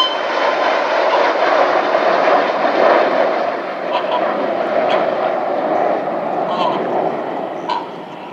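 RAF Red Arrows jet aircraft flying past at an air display at Epsom College, a loud sustained jet roar holding steady for the full span with slight swells and a fade near the end; a voice may be faintly present beneath.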